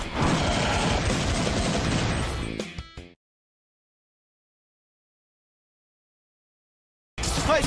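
Rapid gunfire from a quick-draw gunner's weapon, an animated fantasy battle gun said to fire sixteen shots at once: a loud, dense burst of cracks for about three seconds, then abrupt silence before another loud blast cuts in.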